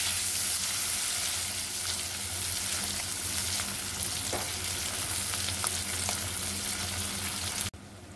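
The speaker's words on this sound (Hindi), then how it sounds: "और प्याज को हल्का सा लाल होने तक भून लेंगे।" Onions frying in a pan for kadai paneer: a continuous, close crackling sizzle with occasional stirring scrapes, heard alone without talk and cutting off abruptly near the end.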